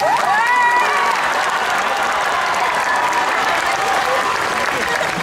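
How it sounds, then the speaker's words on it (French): A crowd at a One Piece cosplay parade on stage applauds a performer named Jonathan, loud dense clapping mixed with cheers and a few high shouts, continuous throughout. "Jonathan, qu'on peut applaudir un peu."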